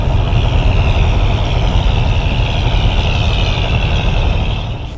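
Fishing trawler engines at Kuakata heading home from the sea, a loud, steady, close diesel drone with a constant deep rumble that eases slightly at the end.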